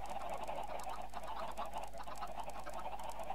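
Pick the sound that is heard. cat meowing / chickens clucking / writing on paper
chickens clucking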